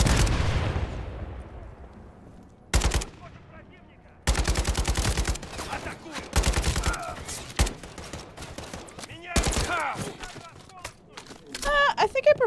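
RPK machine gun in the Modern Warfare III campaign, several separate close bursts of rapid automatic fire with quiet gaps between them, opening with a heavy booming shot.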